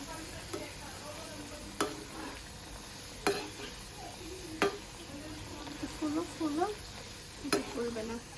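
Luchi, puffed Bengali flatbread, frying in hot oil, with a faint steady sizzle broken by occasional sharp clinks of a utensil against the pan while someone talks quietly nearby.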